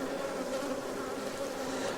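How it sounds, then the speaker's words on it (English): Honey bees in an open hive make a dense, steady buzz close up, a continuous hum with no breaks and no voices. "This bee is trying to feed that one right there."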